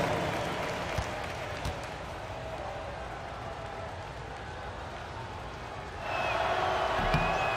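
Dense video game crowd applause and cheering at an NBA 2K25 basketball game fill the whole stretch, a steady wash of clapping that swells louder near the end.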